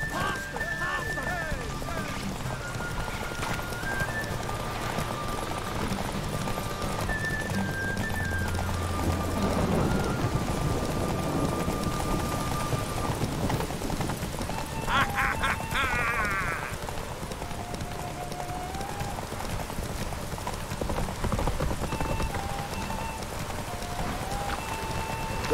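Horses gallop in a race in The Witcher 3, with steady clip-clopping hooves and neighs heard over game music, ambient rain and voices.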